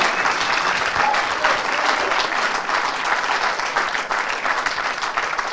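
A crowd applauds steadily and loudly for the runner-up, Simon Ward, at a pool world championship grand final; the dense clapping holds without a break throughout.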